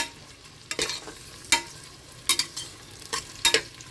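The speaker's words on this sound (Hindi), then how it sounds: "चलिए हम प्याज को फ्राई करते हैं" Onions frying in oil in a pan while a Lucknowi mutton dish is prepared, with a soft steady sizzle broken by sharp, intermittent stirring scrapes, close and alone without talk.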